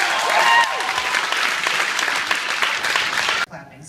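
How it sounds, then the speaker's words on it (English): An audience claps for an award winner at a filmmaking awards event, sustained dense applause from a room of people, fairly loud, ending abruptly near the close with some voices mixed in. "Clapping so things are less awkward next time."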